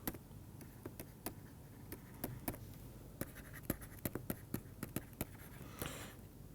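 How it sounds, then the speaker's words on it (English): Chalk or a marker taps and scratches on a board during a lecture on basic properties of groups, giving a quiet run of sharp, irregular ticks with no talk. "start writing"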